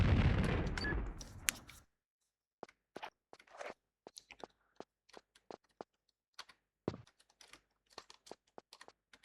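Weapon fire in the Tomb Raider III beta comes as sharp, scattered shots with gaps of silence between them, after a brief burst of louder noise at the start.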